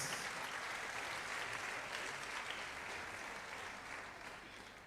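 A church congregation claps steadily together during a service, a continuous even wash of applause that tapers off slightly at the end, fairly distant and faint.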